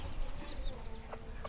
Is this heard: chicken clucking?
yes